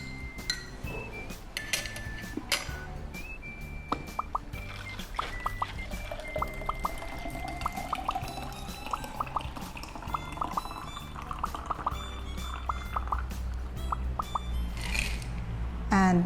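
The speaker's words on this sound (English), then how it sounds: "So now let's pour your drink there." Bubble tea, shaken with ice in a shaker, is poured into a glass: a steady liquid pour with clinking ice and light patter that rises in pitch as the glass fills, close and fairly quiet, with no talking.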